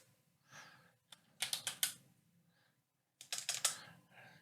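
Two quick bursts of keystrokes on a computer keyboard, separated by a short pause, close and crisp in an otherwise quiet room.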